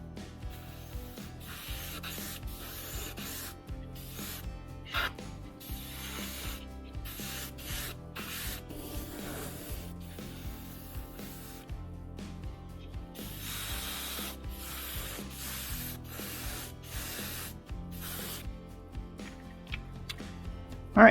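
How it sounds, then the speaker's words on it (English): A hobby airbrush releases short bursts of fine mist, spraying sky gray paint onto the nose of a 1/48 scale Tamiya A-10A Thunderbolt II plastic model. The hissing puffs repeat in quiet, close, intermittent spurts with brief pauses between them. "So just a little mist with the airbrush."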